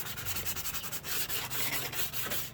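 Steady rhythmic scrubbing rubs across an oxidized, yellowed plastic car headlamp being restored, a close, continuous abrasive back-and-forth with even strokes and no talk.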